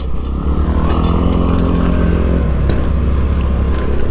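A brand-new scooter, just brought home after a blessing ceremony, runs its engine close by with a loud, steady low hum and a slight rise in pitch partway through, with no voices over it.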